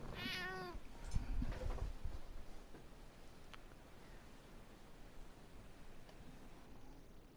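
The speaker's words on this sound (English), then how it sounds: "Oh, hello, cat." A cat in the video game Final Fantasy XIV gives one clear, rising-and-falling meow at the start, followed by a faint rustle and a low, steady background hiss.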